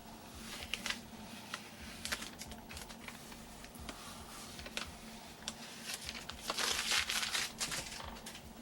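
Masking is peeled and lifted off airbrushed artwork, producing close, soft crinkling and crackling in irregular bursts that grow louder near the end.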